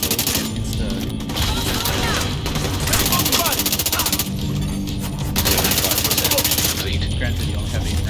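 Rapid bursts of gunfire in a shooter video game, several volleys of quick repeated shots at close range with a player talking between them.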